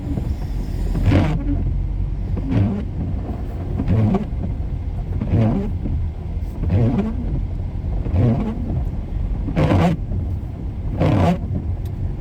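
A car driving on a slippery road coated with a thick salt layer, a steady close engine rumble with repeated swells of revving and tire noise at roughly regular intervals, no talking.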